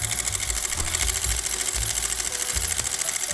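Sewing machine stitching a buttonhole, a rapid ratchety mechanical clatter running continuously and close, with steady rhythmic needle strikes and no talking.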